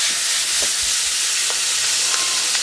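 Fiddleheads and grape tomatoes frying in brown butter in a pan make a steady, close sizzle and hiss with a few soft pops and stirring clicks, no voices.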